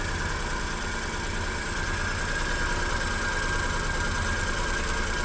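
A car engine idles steadily just after its first start following a cylinder head replacement, with a continuous, even rumble and no audible shaking or stumbling, close and constant throughout.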